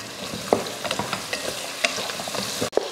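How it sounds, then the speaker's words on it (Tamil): Drumstick, broad beans, pumpkin and mango being sautéed in a pan for a Pongal feast, with a steady close sizzle broken by several sharp spoon scrapes and clinks against the metal. "காயை கொஞ்சம் வதக்கிக்கலாம்."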